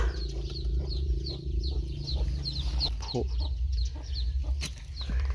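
Hens clucking steadily outdoors in repeated short calls, with a constant low rumble and other farmyard noise underneath, near a nest of duck eggs being brooded by a hen.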